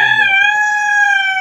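A chicken kept in a rooftop cage farm gives one sustained, steady crowing call, loud and close, with no talk over it.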